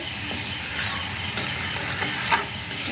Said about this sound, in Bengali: চিনি গলে গেছে এইভাবে নেড়ে নেড়ে